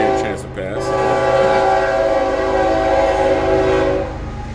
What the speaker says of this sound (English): We'll let the train give a chance to pass